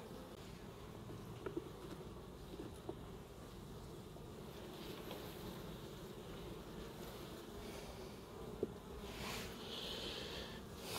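A honey bee colony hums at an open hive during an inspection, a steady, soft, low buzzing drone that carries on throughout, a little distant, with no voices.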